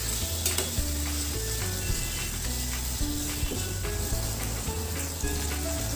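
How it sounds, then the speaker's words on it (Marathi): Finely chopped tomatoes sizzling steadily in hot oil in a pan while being stirred for a biryani base, a continuous close frying hiss with occasional scrapes and no talking. "टोमॅटो परतून घेणार आहोत."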